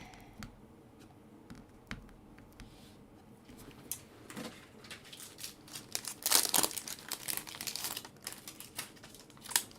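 Stamped paper pieces for a wobbler card with a stamped eye design are peeled off a card at a craft table, giving close crinkles, small tearing rasps and light taps that grow busier and louder toward the end, with nobody talking.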